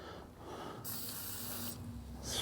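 Lubricant sprayed from an aerosol can onto the foot peg pivot of a 2023 KTM 300XC dirt bike gives two brief, close hissing bursts over a low background hum.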